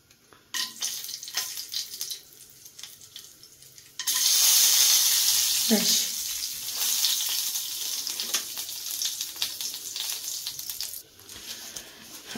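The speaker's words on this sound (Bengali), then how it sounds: "এখন আমি এই ঘিটার মধ্যে দেব হচ্ছে গোটা গরম মশলা।" Whole garam masala dropped into hot ghee for Basanti polao gives a sudden, loud, bright sizzle after a few quiet stirring taps, and the crackle continues steadily as spices shift in the pan.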